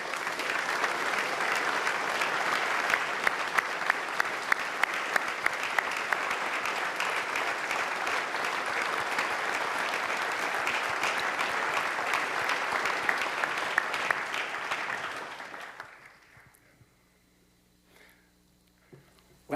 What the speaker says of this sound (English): Would all of our directors and deputy directors please rise for a well-deserved round of applause.